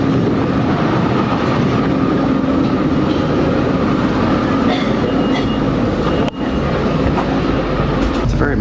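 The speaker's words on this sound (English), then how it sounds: "It's a very modern looking train." A modern train in Hungary rumbles steadily and loudly throughout, a continuous broadband running noise of the moving carriage with a brief dip near the end.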